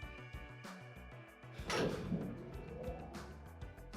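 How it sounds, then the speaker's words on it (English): A door opens in the video game Danganronpa 2: a soft whooshing slide rises and fades over low game background music, with no talk. "The door opened."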